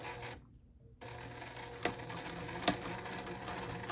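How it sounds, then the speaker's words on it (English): Close by, a sewing machine stitches around the edge of a quilted fabric rosette patch. A steady rapid mechanical rattle is broken by a brief pause near the start, with a couple of sharper clicks as it resumes. "I'm stitching around my patch right here along the edge"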